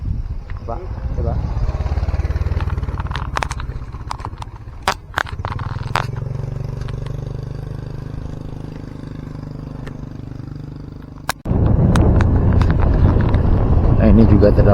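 A motorcycle rides slowly along a narrow emergency track over a landslide-damaged road, a low rumbling engine under wind buffeting with scrapes and knocks, and people talk over it.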